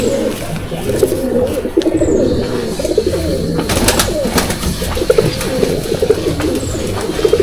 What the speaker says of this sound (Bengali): পায়রাগুলো কোয়ালিটি খুব দুর্দান্ত কোয়ালিটির পায়রা।